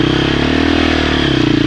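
Dirt bike engine under light, steady throttle on a rough Idaho trail, a continuous close, even drone with faint mechanical clatter, no voices.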